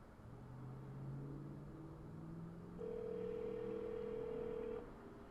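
Ringback tone of an outgoing telephone call to Church's Chicken in Pensacola, a steady electronic tone rising in pitch and then holding, alone with low background hum.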